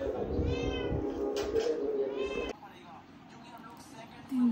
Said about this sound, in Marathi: मांजर नुसतं ओरडत राहते